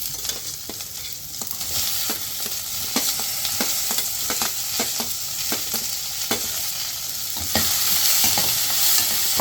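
Onions and ivy gourd fry in a pan with a constant sizzle, punctuated by repeated sharp scraping and clacking stir strokes at an irregular rhythm, growing a bit louder toward the end; close up, no voices.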